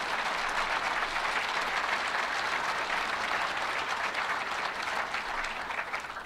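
An audience at Governor Cuomo's executive budget address in Buffalo breaks into sustained, dense applause, many hands clapping in an even roar that holds steady before tapering slightly at the end.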